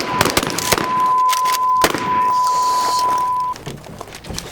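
Sharp shotgun reports at an outdoor shotgun training session, several loud cracks close by, early in the stretch, with a steady electronic tone running underneath and no speech.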